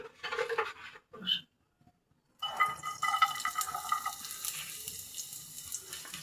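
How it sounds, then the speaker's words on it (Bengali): Chopped onion dropped into bitter gourd frying in soybean oil over low to medium heat, a short clatter, a brief pause, then a sustained bright sizzle that stays steady. "এখন আমি করলা ভাজির মধ্যে দিয়ে দেব পেঁয়াজ কুচি"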